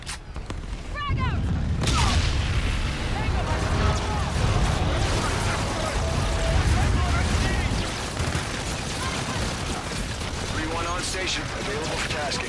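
Combat in the shooter game Infinite Warfare, with a frag grenade blast amid sustained gunfire and booming explosions, loud and dense throughout, with voices shouting over the battle.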